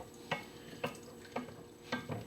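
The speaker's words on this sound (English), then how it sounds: "stir the shallots and the ginger into it" Shallots and ginger stirred in a hot pan, four evenly spaced scraping strokes over a faint sizzle, close and quiet.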